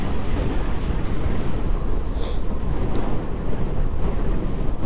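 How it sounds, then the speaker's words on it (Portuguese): Strong wind roars steadily across the microphone, a dense, unbroken rush, during a masters-category road cycling race. "É um trecho que tá ventando demais."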